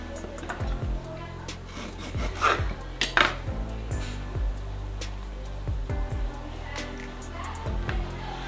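Mutton pieces with lemon juice being mixed in a metal pot for talawa gosht, with repeated scraping and clinking of a spoon against the pot in an irregular rhythm, close and moderately loud, with no one speaking.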